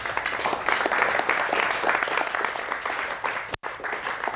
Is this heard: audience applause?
yes